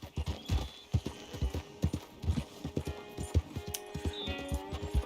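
Horse hooves clip-clop in a steady trotting rhythm in the video game Red Dead Redemption, close and clear with faint ambient game sound underneath.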